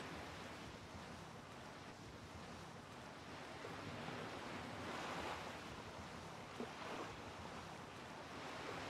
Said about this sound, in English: The water effect's really nice.